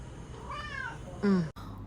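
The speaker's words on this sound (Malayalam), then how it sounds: "അവൾക്ക് പൂച്ചനെ ഭയങ്കര പേടിയാട്ടോ" A cat gives two short meows close by, the second louder, over a quiet background.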